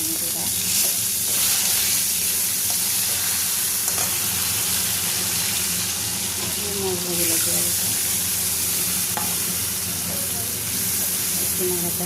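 Spice paste of cumin, coriander and turmeric frying in oil in a pan, a steady loud sizzle and hiss with occasional stirring scrapes and spatters, continuous throughout.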